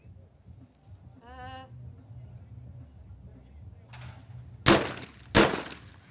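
A pair of loud, sharp shotgun blasts fire about a second apart near the end, during a women's trap shooting final at the 2016 ISSF World Cup in Rome. Before the shots there is a quiet outdoor murmur with one brief tonal call.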